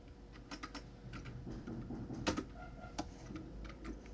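Light clicks from a computer keyboard, with quiet keystrokes arriving in short irregular bursts against a soft room hum and no voices over them.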